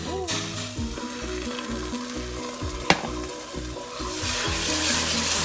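Sugar and water mixture for peanut brittle sizzling and frying steadily in a pan while being stirred, one sharp clink midway, with no voices.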